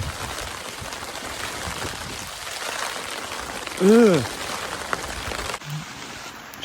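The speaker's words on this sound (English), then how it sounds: "Just look at the rate that rain is hitting that bit of wood." Heavy rain pelts a piece of wood at a Lake District campsite during a torrential downpour, a dense, steady patter that fills the scene, broken once by a short groan.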